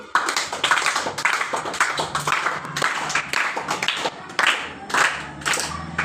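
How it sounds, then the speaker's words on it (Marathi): An audience applauds loudly for a boy named Rajvardhan after he answers a quiz question, with bursts of clapping from many hands. "राजवर्धनसाठी जरा जोरात टाळ्या होऊ देत"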